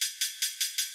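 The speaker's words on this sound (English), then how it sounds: "Almost kind of like this open hi-hat sound." Open hi-hat samples layered for a techno track, five bright airy hits in an even rhythm, each with a short decaying sizzle, close and alone with no low end.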